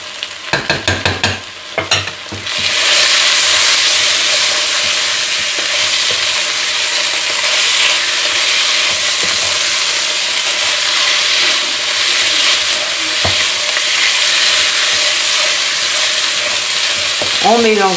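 Onions for onion soup sizzling and frying in a pot, stirred with a spoon; a few clicks and clatters open it, then a steady, loud broadband frying hiss runs throughout with occasional scraping.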